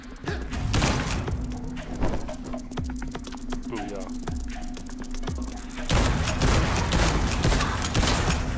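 Bombs explode in the video game Liberated, a series of heavy booms and thuds in a loose rhythm, some close and loud, with someone talking over them.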